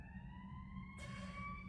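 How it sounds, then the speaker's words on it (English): An emergency vehicle siren sounds outside as a steady, sustained tone with clear overtones, continuing loudly throughout with no talking. "let me wait for this siren to pass."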